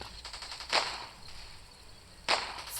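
Video game gunfire: a short rattling burst of rapid shots followed by two sharper single cracks spaced about a second and a half apart, fairly faint against a quiet background.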